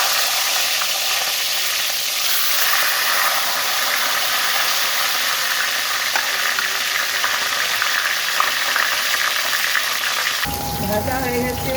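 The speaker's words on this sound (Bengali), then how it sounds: "মাছটা আমি ভেজে নিচ্ছি।" Fish fries in hot oil in a pan for a papaya and potato curry, a loud continuous sizzle and crackle that runs unbroken, then shifts abruptly near the end.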